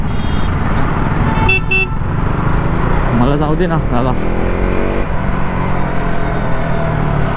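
Busy road traffic thick with running engines, and car horns toot in short bursts over the steady noise. Someone speaks briefly nearby.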